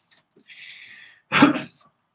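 A single sharp cough bursts out close by after a short breathy, hissing sound, then silence.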